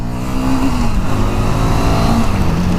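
A Harley-Davidson Street 750 motorcycle engine revs hard and high toward its rev limit, its pitch rising and falling in quick bursts, loud and close.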